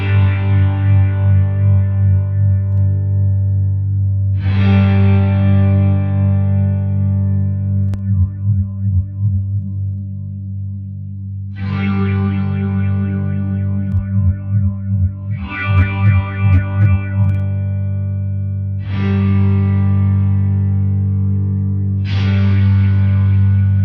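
A guitar runs through an HX Stomp Searchlights reverb used as a swirly freeze effect. Repeated chords hang in a sustained, shimmering wash, and between them bursts of tremolo-like pulsing modulation swell and fade. It plays alone.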